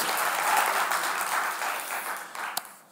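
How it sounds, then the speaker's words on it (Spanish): Church congregation applauding in praise, a dense sustained wash of many hands clapping that thins and fades toward the end, with a sharp clap standing out near the finish. "déle otro aplauso fuerte al Señor"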